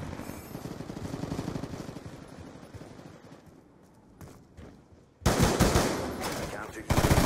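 Video game firing range with KAP-40 and FAL shots: rapid automatic bursts of gunfire that fade, then a sudden loud close volley from about five seconds and another burst at the end.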